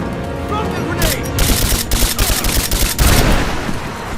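Rapid gunfire in Rise of the Tomb Raider, bursts of automatic and single shots crackling loudly and close, layered over shouted combat voices.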